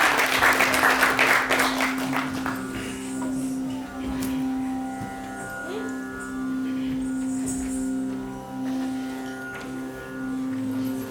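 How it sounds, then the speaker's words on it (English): Audience applause for a Sangeet Natak Academy Award–winning guru at a cultural event, a loud burst of clapping in the first seconds that fades, giving way to a sustained chanted drone with bell-like tones. "Please give her a round of applause."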